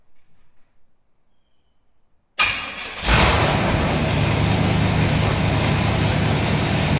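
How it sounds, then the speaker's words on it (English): A Chevy Bel Air fitted with Holley Sniper EFI cranks briefly after a quiet stretch, catches, and settles into a loud, steady, rumbling idle close by without any throttle. "And it should just crank up, no gas pedal."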